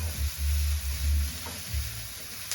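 Finely minced garlic and red onion fry in a pan with a steady soft sizzle, while a low, uneven rumble swells and fades beneath it.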